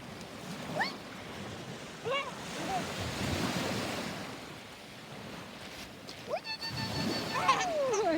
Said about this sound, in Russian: Ой, волна.